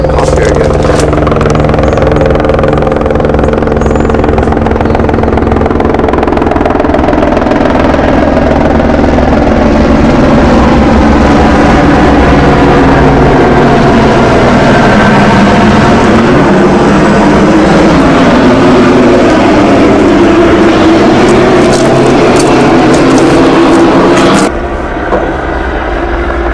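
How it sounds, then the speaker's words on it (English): Heavy dump trucks rumbling past on a street, a loud, sustained low engine drone with shifting tones that swells and fades, with people talking intermittently over it. "Those dump trucks sound like engines, yeah?"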